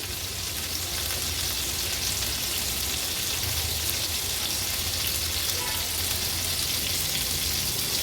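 Dried salted mackerel (bangda) frying in a pan over a medium flame after cooking covered on low heat. A dense, loud, continuous sizzle runs close and unbroken, with a low hum beneath and no speech.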